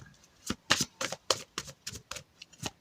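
Close, soft shuffling of oracle cards before an advice card is drawn: about nine separate papery swishes and slaps in an uneven rhythm, with no voice.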